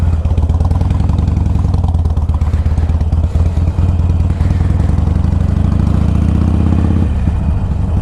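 A Harley-Davidson Iron 883 motorcycle engine idles close by, a steady low rumble with a rapid throbbing pulse that shifts slightly near the end.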